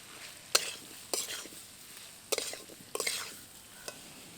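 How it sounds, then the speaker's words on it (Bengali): Fried potato and elephant foot yam are stir-fried in masala, a quiet sizzle punctuated by four or five sharp spatula scrapes and knocks against the pan, close and without talking. "আবারও কিছুক্ষণ মশলার সাথে ভালো করে কষিয়ে নেব"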